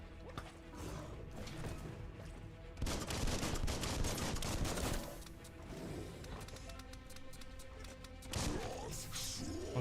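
Gunfire in the Biomutant video game, bursts of rapid shots and clattering impacts layered over mechanical noise, loudest in a dense barrage near the middle, then easing off before a last flurry.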